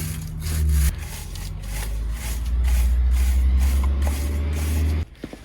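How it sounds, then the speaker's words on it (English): Brake cleaner sprays onto a muddy Jeep JL/JT wheel hub in a steady, close, loud hiss lasting about four seconds, then cuts off abruptly. "A little bit of brake clean"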